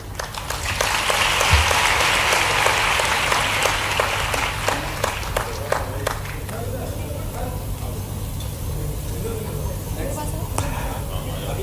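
An audience at a Bhopal government event led by the chief minister applauds steadily, loud at first and then thinning to scattered clapping, with a speaker's voice running over it.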